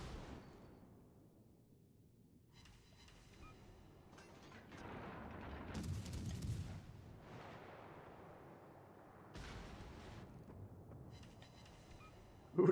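Naval guns in World of Warships Legends fire in a few faint, distant booms with low rumbles between them against a quiet game background.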